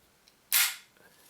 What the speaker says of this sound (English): Sounds nice and crisp when you release the slide.